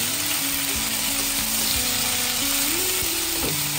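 Onion, prawns, potato and bitter gourd fry in a pan with a steady, dense sizzle, loud and close, with occasional faint stirring taps beneath.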